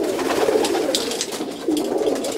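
Vandenabeele racing pigeons coo steadily in low, throaty murmurs, overlapping close by with a faint rustle around them.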